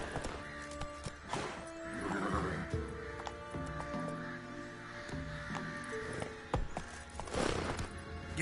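The horse Roach in The Witcher 3: Wild Hunt, with hoofbeats and snorts over a busy game soundscape of music and ambience, fairly faint and continuous.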